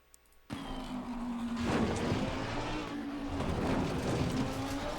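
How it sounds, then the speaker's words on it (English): Lamborghini Huracan EVO engine in the Assetto Corsa racing game at Suzuka, starting abruptly and revving steadily upward in a strong, sustained drone with a rising tone, loud and close, no talk. "I love the sound of the Huracan and the Audi. They just sound so good."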